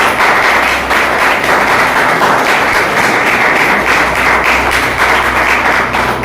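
A live audience at a product demo of cardamom nectar bursts into loud, sustained applause, dense overlapping clapping that stays steady and close throughout.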